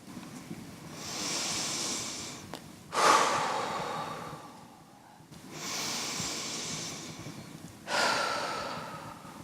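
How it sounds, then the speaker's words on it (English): Slow, deep breathing with long, drawn-out exhales during a guided relaxation at a talk; two broad breaths roughly four seconds apart, soft and close, with no talking. "Take 2 or 3 breaths where you exhale for longer than you inhale."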